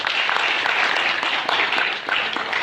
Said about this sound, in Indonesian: tepuk tangan untuk beliau semua